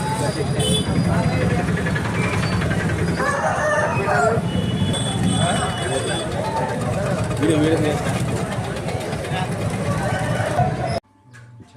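A rooster crows amid clucking country chickens at a poultry market, with steady talk and engine rumble running underneath throughout.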